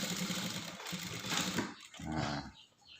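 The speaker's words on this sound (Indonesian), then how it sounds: "cara menjahit ini langsung kita mulai dari sini" A sewing machine stitches the collar of a tunic, with a steady mechanical whir that runs loudest in a short burst near the end, close up and without talk.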